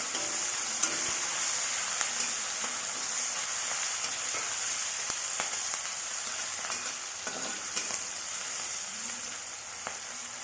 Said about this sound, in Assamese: এতিয়া ইয়াতে মই পিঁয়াজ দিছোঁ